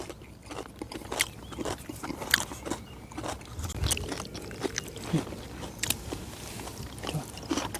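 Close crunchy biting and chewing of Korean pancake (jeon) outdoors on a mountain hike, irregular crisp bites and mouth sounds with faint background rustle.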